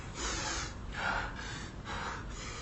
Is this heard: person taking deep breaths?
yes